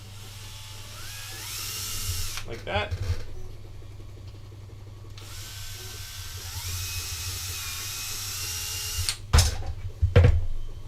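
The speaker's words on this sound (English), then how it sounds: "I can drill the holes to their final dimension." A power drill whirs in short bursts, drilling holes in 3D-printed ABS plastic, with rising-pitch runs and a few sharp grinding bites near the end, close by.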